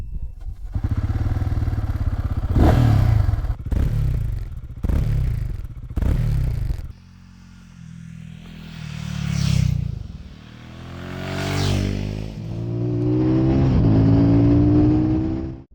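Royal Enfield Guerrilla 450 motorcycle starting up: a few loud cranking bursts, then the engine catches, idles and revs as the bike rides off, with rising and falling engine notes close by.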